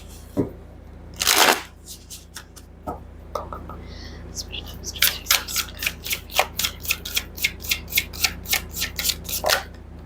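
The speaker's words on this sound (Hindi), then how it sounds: "अब आपके ऑरेकल कार्ड्स देख लेते हैं ग्रुप 3" Oracle cards being shuffled by hand, heard close and soft as a rapid run of crisp riffling flicks after a few scattered handling sounds at the start.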